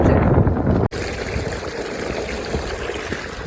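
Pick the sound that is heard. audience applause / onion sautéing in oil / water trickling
water trickling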